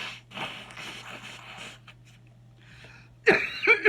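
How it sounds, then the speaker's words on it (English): A short, forceful nose blow bursts out near the end, loud and close, after a stretch of faint shuffling and quiet room noise. "Let me blow my nose first."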